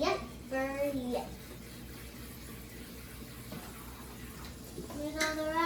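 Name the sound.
rinsing tumbled rocks in water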